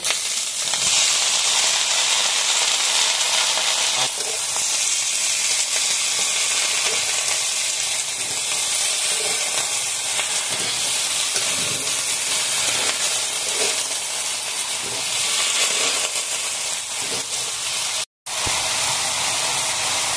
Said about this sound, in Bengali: এখন এগুলো লাল লাল করে ভেজে নেব। এখন আমি শাপলাগুলো ঢেলে দেব।